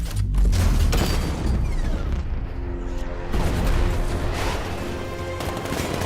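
Heavy cannon fire from a 60mm gun in the Batman Arkham Knight video game: loud, dense booming blasts and rumbling impacts that run continuously with mechanical clatter.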